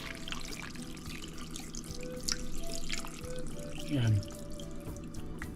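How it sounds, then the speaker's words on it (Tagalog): Water runs and splashes into a cooking pot of pork with a few drips, while a person talks over it with kitchen background noise. "Tapos lagyan natin ng tubig."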